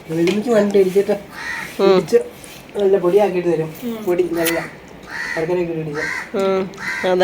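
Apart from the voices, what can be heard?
crow cawing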